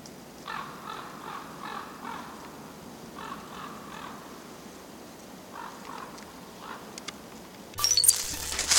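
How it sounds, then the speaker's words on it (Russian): Crows caw in a pine forest, several short hoarse calls in loose groups over soft ambient noise, fairly distant, followed by a burst of nearby rustling. "Вороны летают."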